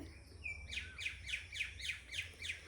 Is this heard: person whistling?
no